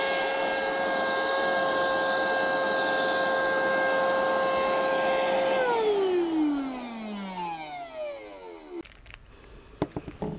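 Electric dual-motor SUP paddle board air pump blowing air with a loud steady whine and strong airflow hiss that winds down in pitch after about six seconds, followed by a few handling clicks and knocks.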